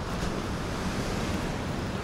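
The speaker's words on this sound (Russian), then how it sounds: "люди просто слушают звуки волн" Sea waves wash continuously onto a beach at night in Alanya, Turkey, a steady broadband surf roar with some wind noise and no voices.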